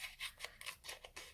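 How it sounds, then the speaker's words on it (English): Scissors snip through an oval of patterned paper, cutting it in half at a card-making table: a quick run of about seven soft, crisp snips, close and quiet, with no voice. "I'm just going to slice this one in half"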